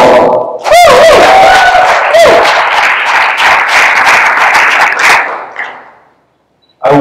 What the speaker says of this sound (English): I would request the audience to refrain from clapping whenever they finish their constructive speech